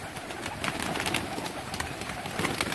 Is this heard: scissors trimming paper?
no